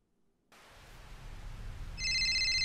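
A telephone in the horror game Five Nights with Bud starts ringing near the end, a loud electronic trill that cuts in over a low, rising background hum after a moment of silence.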